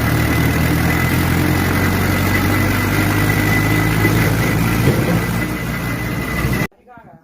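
A tractor engine runs at idle before loading soybeans, giving a loud, steady low rumble with constant vibration that cuts off abruptly near the end.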